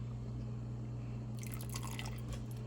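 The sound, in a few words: red wine poured into meatball sub sauce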